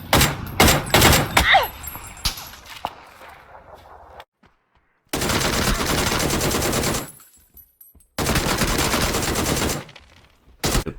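A DP-28 machine gun in PUBG fires scattered shots, then two long, loud sustained bursts separated by silence, with another short burst at the end.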